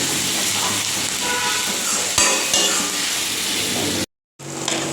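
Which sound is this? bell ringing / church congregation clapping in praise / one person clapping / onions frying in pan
onions frying in pan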